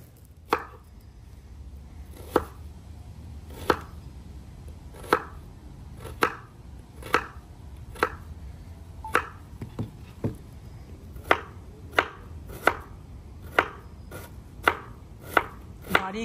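A knife finely chops onions on a board outdoors, with about eighteen crisp, evenly spaced thuds over a quiet background and no talking.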